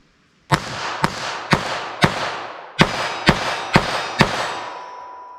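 .22 LR rounds fired from a pocket pistol: eight sharp, loud cracks, each followed by a ringing echo, come in two quick groups of four with a short pause between them.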